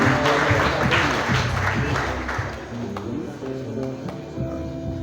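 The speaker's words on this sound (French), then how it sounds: "Je vais demander pour l'Assemblée à applaudir" An assembly applauds at an award ceremony honouring a child's distinction, a dense, sustained wash of clapping that fades slightly toward the end.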